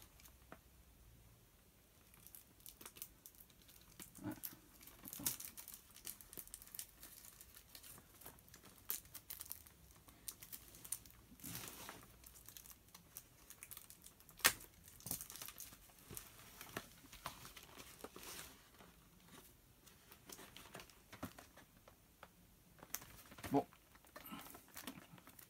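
Plastic blister packaging from a Zelda Link's Awakening collector's edition crinkles and crackles as it is handled during an unboxing, faint, irregular close rustles and small clicks continuing throughout.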